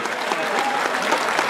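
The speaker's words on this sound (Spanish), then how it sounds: "Le regalamos fuerte el aplauso" Loud, dense applause from the crowd at a jaripeo, an open-air rodeo event, a continuous wash of clapping hands with faint crowd noise beneath.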